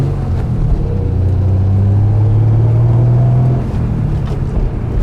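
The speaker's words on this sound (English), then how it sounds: "Very smooth motor." A 1970 Triumph TR6 engine runs steadily and smoothly, a loud close low rumble with a rising then easing tone, no voices.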